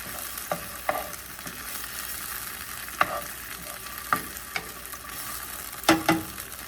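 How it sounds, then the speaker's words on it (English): Garlic sizzles softly in a pan, a low steady hiss broken by a few scattered pops and crackles. "once that starts to sizzle, then I'll add in our onions and our bell pepper"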